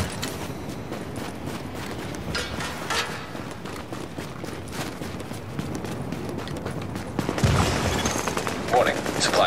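Sporadic gunfire crackles in a firefight in the video game Tom Clancy's The Division, a mix of single shots and short bursts under game noise, growing louder near the end.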